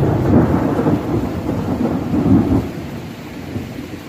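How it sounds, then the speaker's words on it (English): An intense thunderstorm with low rolling thunder over a steady roar of heavy rain, loud and continuous throughout, with no voices. "Do you hear that thunder?"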